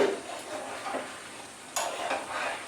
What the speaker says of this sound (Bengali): আমি একবার নেড়ে নিই